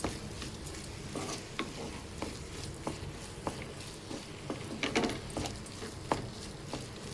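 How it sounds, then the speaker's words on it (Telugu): Potato fry with chili powder and salt cooks on low heat in a pan and is stirred now and then. A soft, steady sizzle runs under repeated sharp scraping and tapping strokes of the spatula, all fairly quiet and with no talk. "ఇలా సిమ్లో పెట్టుకొని కారం ఉప్పు అంతా కరెక్ట్గా పట్టేలా ఫ్రై చేసుకోవాలి."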